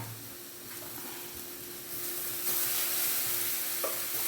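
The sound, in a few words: curry leaves sizzling while stir-frying leaf thoran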